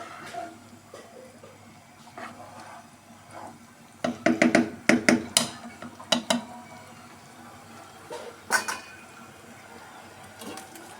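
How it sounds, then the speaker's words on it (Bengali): A lid is set onto a cooking pot, giving a short cluster of sharp metallic clatters and clinks over a few seconds amid quiet kitchen background noise. "ঢাকনা দিয়ে ঢেকে দিব এখন"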